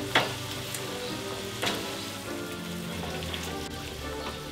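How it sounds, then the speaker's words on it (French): Herbs and butter sizzle steadily in a frying pan while a steak entrecôte sauce is made. A close, continuous crackle carries a couple of brief utensil scrapes and no voices. "maintenant les herbes reviennent avec le beurre"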